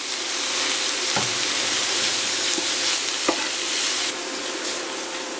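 Onions and parsley fry in oil in a hot pan with a loud, steady sizzle and a few soft stirring clicks.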